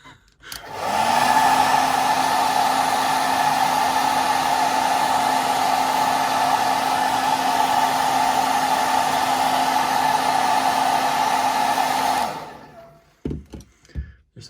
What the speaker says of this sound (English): I have a hairdryer, so turn the volume off,